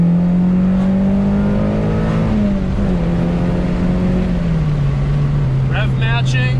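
A Honda Civic Si engine is blipped for rev matching while driving spiritedly. A strong tonal drone shifts pitch in steps as the revs drop, with brief chirps near the end.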